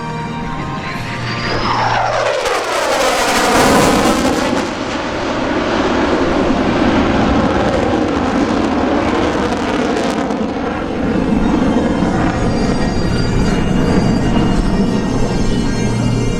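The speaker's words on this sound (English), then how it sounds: "Your United States Air Force's F-22 Raptor" A USAF F-22 Raptor roars past during an airshow demonstration at the 2015 New York Airshow, a loud jet rush that swells and Doppler-drops as it passes close overhead, then settles into a sustained distant engine rumble.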